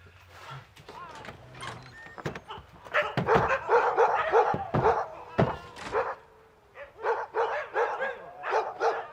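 Sled dogs in the Haut-Jura bark in a close, excited chorus of overlapping barks and yips, with a few whimpers, while a person talks among them.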